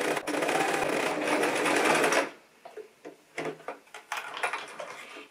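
Sewing machine stitching a seam on a cotton face mask, running steadily for about two seconds close up, then stopping and giving way to scattered fabric handling and clicks.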